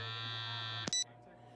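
A cell phone vibrates inside a plaster arm cast, giving a steady, muffled electric buzz that cuts off abruptly with a short click.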